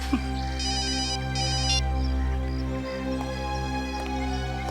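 A single short burst of electronic phone ringing sounds over a steady low hum, then stops.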